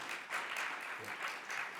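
Fairly faint applause from an audience greets a guest named Ghebreyesus at the Global Appeal 2024 event, a brief patter of clapping.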